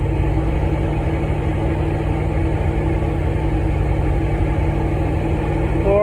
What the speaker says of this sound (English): I don't care if it idles high